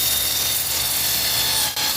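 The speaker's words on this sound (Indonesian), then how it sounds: "Cakram Amplas 80 grit." An 80-grit sanding disc on an angle grinder grinds steadily across a scuffed BMW wheel rim, a loud continuous abrasive whir with one brief dip near the end.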